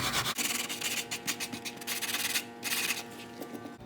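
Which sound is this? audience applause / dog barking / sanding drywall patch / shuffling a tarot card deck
sanding drywall patch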